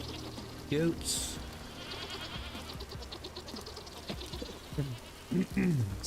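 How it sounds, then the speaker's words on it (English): Goats bleat in the survival game Vintage Story, a few short cries around one second and more near five and a half seconds, heard over a steady background bed with a speaking voice. "Goats."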